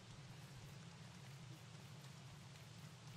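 Rain falls in the survival game Don't Starve, a soft, steady hiss of drops that continues evenly throughout at a low, distant level.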